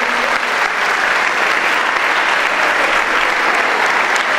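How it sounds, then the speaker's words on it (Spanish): A crowd applauds steadily and loudly throughout at the opening of an under-14 volleyball qualifying tournament in Jacobacci, a dense wash of clapping with no pauses. "para quien pido un fuerte aplauso"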